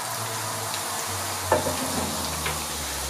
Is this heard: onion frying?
yes